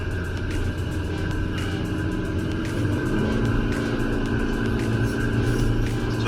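A 2021 Proton Iriz Active runs in sports mode, its engine holding gear with a steady, droning rumble under constant road and cabin noise, no voices over it.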